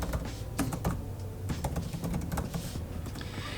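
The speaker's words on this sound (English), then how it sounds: "Go ahead and type in your business name." Business name being typed on a computer keyboard, a close, quick irregular patter of key clicks running continuously without talking.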